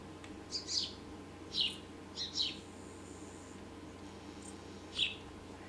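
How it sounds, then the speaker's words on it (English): Birds in the video game The Great Circle chirp in short bright bursts, about five calls spaced over a few seconds against a quiet ambient background, one bird close by. "All right, hear the birds? You hear them?"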